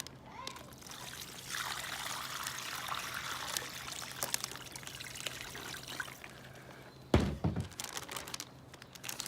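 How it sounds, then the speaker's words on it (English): Brine is poured from a container onto pork baby back ribs in a large Ziploc bag, a steady soft trickle with plastic crinkling, ending in a louder thump and rustle of the bag. "I'm just going to pour the brine right onto the meat."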